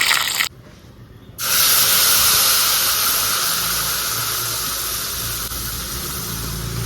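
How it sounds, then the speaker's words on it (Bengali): A spice paste of onion, ginger, garlic, tomato, cumin, coriander and Kashmiri chili powder fries in oil with a loud, close hissing sizzle. The sizzle drops out briefly near the start, then returns strongly and fades slightly. "মশলাটা কষিয়ে নেব"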